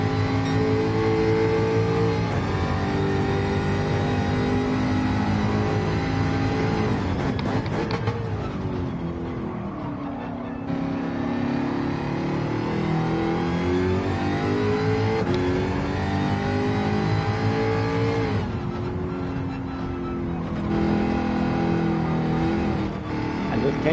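A race car engine drones steadily through a practice lap in the Gran Turismo 7 video game, its pitch rising and falling with shifts and corners, loud and continuous with a voice talking at times.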